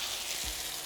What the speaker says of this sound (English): So we've got everything frying here.